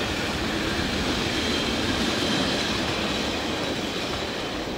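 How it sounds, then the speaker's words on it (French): A Matterhornbahn train rumbles past at close range near Randa, a steady broadband roar with faint rhythmic clatter throughout. "C'est le train du Matterhornbahn."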